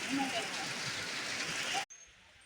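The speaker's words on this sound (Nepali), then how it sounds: "पानी कस्तो पर्यो मुसलधारे पानी परिरहेको" Dense, steady hiss of heavy rain pouring down close by, cutting off abruptly near the end to a quiet background.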